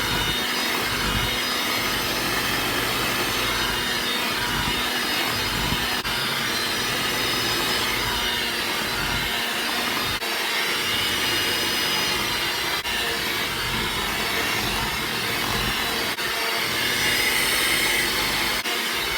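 An electric mixer whirs continuously as dry ingredients are blended into a butter mixture for chocolate chip cookie dough, a loud steady motor drone with slight rhythmic variations from the beaters and no speech.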